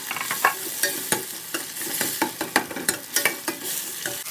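Tomatoes fry in a pan for pav bhaji, with a close, steady sizzle broken by a quick rhythm of spoon scrapes and stirring strokes. No one talks.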